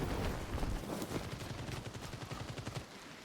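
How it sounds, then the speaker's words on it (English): Rapid automatic gunfire in a shooter video game crackles in dense, close bursts that gradually thin out and fade toward the end. "He's shooting."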